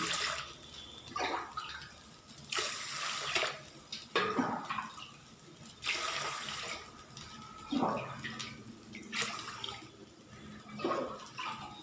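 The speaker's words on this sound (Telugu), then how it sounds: "రైస్లోకి సరిపడా వాటర్ని వేసుకోవాలండి" Water splashes and pours in several short bursts into a pot of rice, with clinks of metal between pours, close by and fairly loud.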